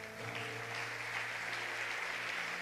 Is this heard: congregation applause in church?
yes